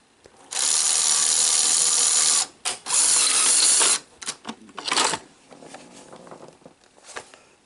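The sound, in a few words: Sony SL-HF600 Betamax VCR ejecting cassette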